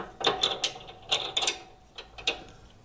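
A ratchet wrench tightening a 17 millimetre bolt on a Harbor Freight generator wheel kit, a series of close, sharp clicking pawl strokes in short uneven bursts, with quieter gaps between turns.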